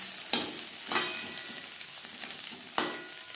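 Diced potatoes with chopped green chilli sizzle steadily in a hot pan, broken by several sharp scrapes as a spatula stirs them, close and fairly quiet, no voices.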